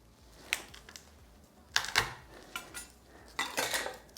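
Garlic cloves squashed for bread and butter pickles, a few sharp clattering knocks and crunches spaced apart, close and fairly quiet, with no talk.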